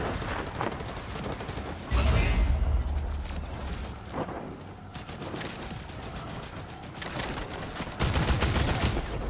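Gunfire in the battle royale video game Recharge crackles from all sides in bursts, with heavy volleys and booming shots recurring at close range and quieter stretches of distant shooting between them.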